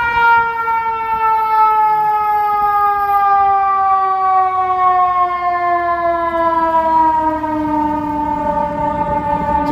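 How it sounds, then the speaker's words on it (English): An emergency siren, an ambulance or fire truck, passes along a Chicago street at midday, loud and close with a steady wail that slowly falls in pitch as the vehicle goes by, over traffic rumble. "Here comes an ambulance or sirens or fire truck or something's coming this way."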